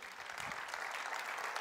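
A church congregation claps together at a Sunday service, a brief, fairly quiet wash of steady applause heard from some distance with no voices over it.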